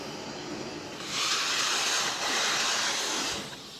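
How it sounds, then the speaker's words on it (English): A vacuum cleaner sucks up metal drilling chips beside a 1300W magnetic drill press, a steady broad hiss that swells loudly for a few seconds over a low background hum, with no talking. "I'm going to vacuum up these chips"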